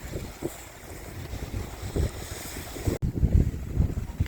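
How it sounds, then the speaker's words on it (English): Cold wind blows off the ocean along a beach, buffeting the microphone in uneven gusts and rumbles with a faint wash of surf beneath, no voices. "Kind of cold here today, but it's just the wind off the ocean."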